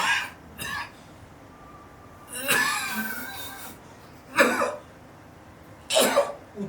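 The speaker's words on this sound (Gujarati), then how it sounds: "ઉધરસ" Several separate coughing fits from one person with asthma, spaced apart with short pauses between, close and moderately loud against a quiet background.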